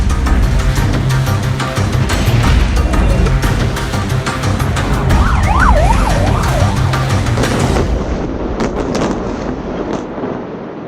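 Wailing warning sirens during a rocket barrage in Israel, loud and sweeping up and down over heavy crackling and booming clatter, fading toward the end.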